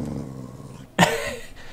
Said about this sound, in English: Proper growl.